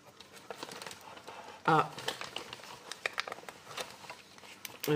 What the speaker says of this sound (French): Tu sors tout de l'enveloppe et mets l'enveloppe là-bas.